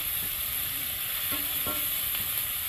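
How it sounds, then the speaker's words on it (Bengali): Onions frying in a pan until reddish-brown make a steady, loud, hissing sizzle with a few faint stirring scrapes. "পেঁয়াজগুলো খুব ভালো করে ভেজে নিয়ে, মানে বেশ লাল লাল করে ভেজে নিতে হবে পেঁয়াজটাকে"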